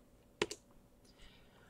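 Keystrokes on a computer keyboard while entering terminal commands on ArcoLinux, a quick pair of sharp, close clicks followed by a few fainter taps in a quiet room.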